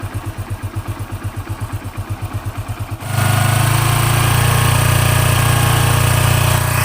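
A Hero Passion XPro motorcycle's small engine putters in a steady pulsing idle, then abruptly revs up to a louder, constant drone that holds to the end.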